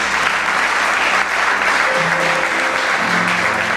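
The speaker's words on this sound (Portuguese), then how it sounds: "vamos aplaudir Jesus" Church congregation applauding during a Sunday service, a steady dense wash of clapping that fills the space throughout, with faint voices and a sustained tone underneath.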